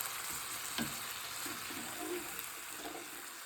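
Black beans fry in a pan for stuffed poblano peppers, a quiet, even sizzle with occasional stirring scrapes and soft knocks and no speech.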